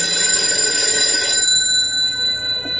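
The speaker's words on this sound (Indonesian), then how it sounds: "Aku tersadar karena mendengar deringan telepon rumah sampai 3 kali." A home landline telephone rings with a bright, sustained electronic trill that fades partway through, heard alone without voices.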